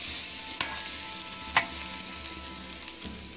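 Ginger, onion and garlic sauté in a pan, a steady bright sizzle close by, broken by two sharp utensil clacks against the pan, with no talking.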